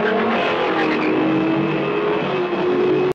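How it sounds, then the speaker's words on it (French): Volkswagen race cars roar off the start of a race in a film, a loud dense engine roar with cars revving and passing, continuous until it cuts off abruptly. "Un départ de course endiablé."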